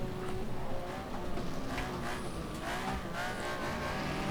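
A Corvette race car runs on a circuit, its engine a faint, distant, sustained roar with a brief higher tire-like squeal mid-pass and a slow swell and fade.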